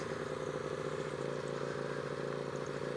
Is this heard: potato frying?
no